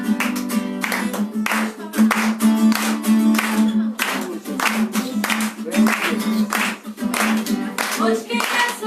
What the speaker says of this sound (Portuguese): Com palmas para Jesus